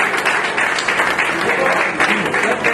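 A crowd applauds steadily and densely at a ceremony honouring journalists, a thick wash of many hands clapping close by for nearly three seconds, with a voice faintly audible under it.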